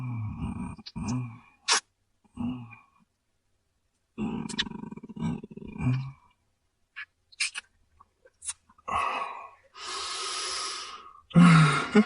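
A voice gasps and groans in short breathy bursts separated by silences, some sharp intakes of breath and rough, roar-like exhalations, close and fairly loud.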